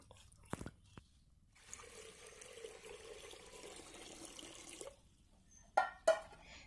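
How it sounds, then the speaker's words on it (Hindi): Water poured into a cooker while preparing a Bodo snail and black gram dish, a faint splashing stream lasting about three seconds, bracketed by a few soft clunks and two sharper knocks near the end. "इसमें पानी ऐड कर दिया,"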